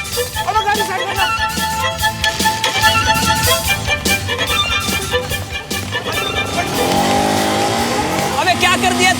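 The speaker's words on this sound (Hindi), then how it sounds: "अब गाड़ी स्टार्ट करना।" A car's engine revs and the vehicle pulls away with tire squeal, the motor loud and close beneath busy background music and voices, its pitch rising as it accelerates toward the end.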